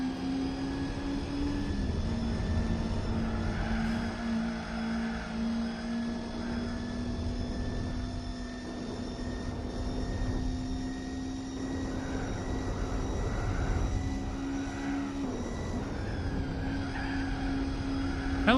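Racing cars in the Gran Turismo 4 video game, a steady near engine drone with shifting pitch and occasional tire squeal, continuous and loud with no talking.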